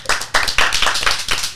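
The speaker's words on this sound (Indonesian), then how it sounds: "Tepuk tangan buat Cing Mabur dong" Several people clapping together in a quick, fairly loud burst of applause with no voices over it.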